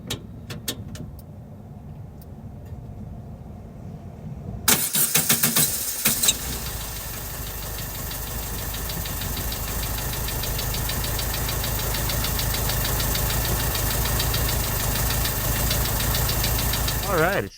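A 1969 Volkswagen Beetle with a 4-speed manual, not started cold, cranks briefly and fires up, then settles into a steady, slightly knocking air-cooled idle that runs on evenly and close.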